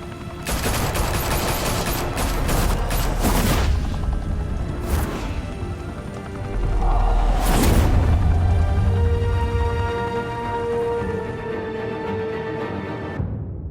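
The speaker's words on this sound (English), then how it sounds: "Open fire!" Gunfire in the Batman video game as gangsters open fire in Gotham, loud bursts of shots over roughly the first eight seconds under a heavy game soundtrack, fading toward a quieter ending.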